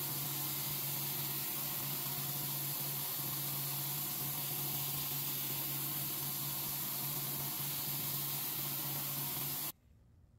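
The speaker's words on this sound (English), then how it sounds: "we'll put the 1000 grit belt on. And again, just going to keep chasing that burr back and forth until we get a nice sharp edge" A belt grinder fitted with a 1000 grit belt sharpens the edge of a knife made from a crowbar. A steady, loud hiss of abrasion rides over a low motor hum for nearly ten seconds, then cuts off abruptly.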